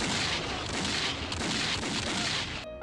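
Rapid, dense gunfire from a Bollywood action movie scene, a loud continuous volley of overlapping shots and booms that cuts off abruptly near the end.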